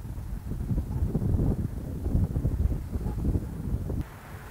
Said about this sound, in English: The wind comes up off the Pacific, which is good lift